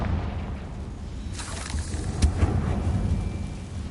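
Confringo fire spell blast in Hogwarts Legacy: a rumbling, booming burst with a crackling, rain-like wash that swells midway and lingers at moderate loudness, fairly close.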